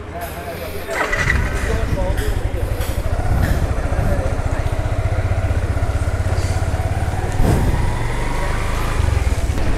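A motorcycle running almost out of fuel rides along with a steady, loud engine drone. The engine pitch rises and falls a little as the bike moves.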